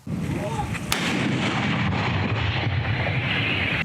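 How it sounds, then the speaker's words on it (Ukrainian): Tank cannon fire from Ukrainian tank crews striking enemy positions on the Bakhmut front, with one loud, close blast early on followed by a sustained, heavy rumble of continuous combat noise and wind buffeting. "Тож нині бачимо, що танкісти знову завдають удару по ворожим позиціям."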